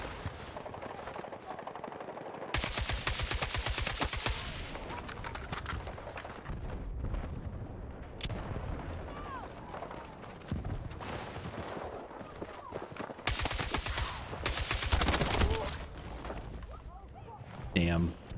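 AK rifle fire in the video game Battlefield 6 comes in several sharp bursts with short gaps between them, alongside other game noise, while a voice talks over it.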